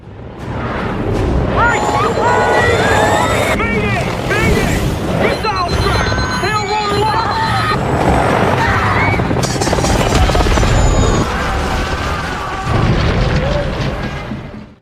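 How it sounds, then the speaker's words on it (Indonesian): A helicopter shot down and exploding in an action film scene: loud, chaotic booming and crashing with a helicopter roar, dense cinematic explosions layered with shouting voices. "tiba-tiba helikopter tersebut ditembak jatuh"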